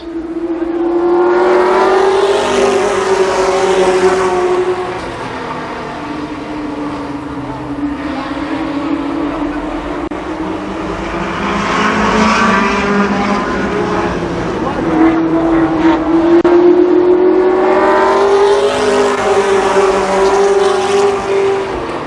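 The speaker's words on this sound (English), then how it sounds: "Racing laps." Race cars lap a motor speedway, engines droning loudly and rising and falling as packs pass near then fade; a crowd-like wash sits beneath, with a track announcer talking over it.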